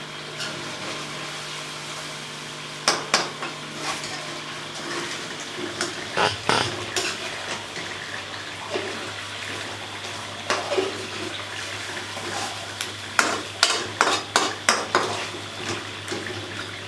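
Rice cooks in a pot for a white rice and chicken recipe, with a steady watery bubbling hiss and occasional clinks of utensils against cookware in a kitchen.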